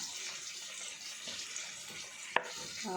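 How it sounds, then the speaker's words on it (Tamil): Sesame oil poured into a pan, a soft, steady trickling hiss close by, with a sharp little clink near the end. "அடுத்து அதே பேனில் தேவையான அளவு நல்லெண்ணெய் ஊற்றணும்."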